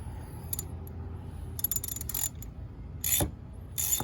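A ratchet wrench tightens a loose car battery terminal with a run of close, dry clicking bursts, irregular and in short clusters, over a low background hum.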